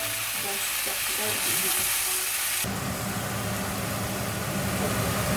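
Raw spinach sweats in a hot pan with a dense, steady sizzle and hiss that grows louder and fuller partway through, close and continuous.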